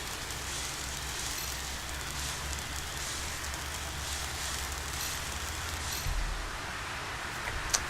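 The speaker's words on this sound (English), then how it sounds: "It rains a lot on this planet." Steady heavy rain hissing continuously in the video game Planet Nomads, a dense even wash of drops with a low rumble underneath and no voices.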